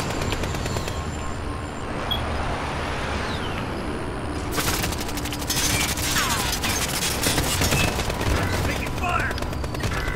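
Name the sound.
gunfire in Call of Duty Modern Warfare video game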